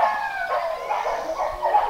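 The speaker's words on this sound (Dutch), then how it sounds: "Moet je al die honden horen?" Several dogs bark and howl at a distance in a Greek village, a faint overlapping chorus over a brief stretch.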